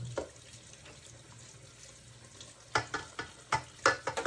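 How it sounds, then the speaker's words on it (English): Hot water running from a kitchen tap while dishes are washed, a steady faint hiss of flow with louder splashes and clinks toward the end, no talk. "I use warm water or hot water, depends on how much I can."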